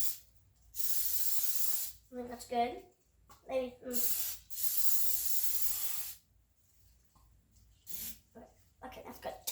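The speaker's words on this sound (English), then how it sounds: "So first we gotta spray the pan." Aerosol cooking spray hisses onto a pancake pan in several sharp, close bursts of varying length, with brief talk between the sprays.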